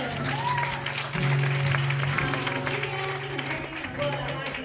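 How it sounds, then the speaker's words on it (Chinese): Audience applause at a live music show, a steady wash of clapping from a crowd throughout, with a voice speaking over it. "我们以掌声"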